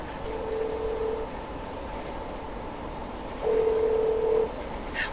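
Telephone dialing to call a mother: two steady electronic tones, one short early and another about a second long later, over a quiet background hiss.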